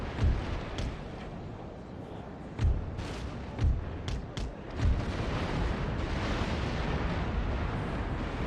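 Heavy cannon fire from a 122-gun warship in a Napoleon: Total War naval battle, Great Britain campaign: several loud booming shots at irregular intervals over a continuous roar of battle noise.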